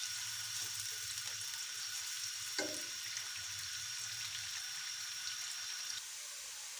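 Sliced onions fry in a pot until dark brown for Sindhi biryani, giving a steady, even sizzling hiss with a single clink of utensil on the pot partway through and no talk.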